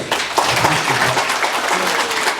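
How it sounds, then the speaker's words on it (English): An elementary school assembly crowd claps loudly and continuously, a thick wash of many hands with scattered voices and shouts mixed in throughout. "Give a round of applause."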